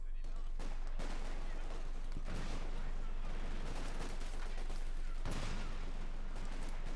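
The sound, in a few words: gunfire killing British sniper in video game Company of Heroes 2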